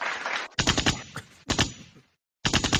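Rapid bursts of gunfire sound effects crack in quick succession, loud and close, separated by brief gaps and one short silence before a final volley.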